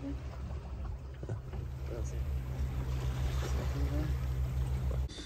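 A steady low engine drone from a sailboat at sea, continuous throughout, with wind and water noise over it and faint voices in the background.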